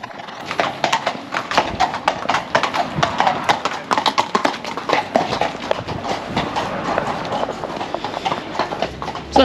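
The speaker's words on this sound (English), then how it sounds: "Oh look, here comes some horses, Darcy May." Several horses clip-clop along a village high street in Broadway, their hooves striking the road in a close, busy, overlapping rhythm.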